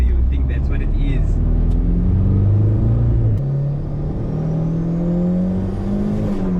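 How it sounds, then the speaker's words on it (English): A VW Caddy sleeper with a turbocharged 1800 20V engine and aftermarket exhaust, heard from inside while driving: a loud, steady engine drone and exhaust rumble that rises in pitch, drops briefly at a gear change, then builds again. "when you're in the car it just sounds like a normal caddy with an exhaust"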